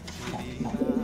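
Pigeons coo close by in a pigeon box, a soft throaty burble rising into a few repeated low calls.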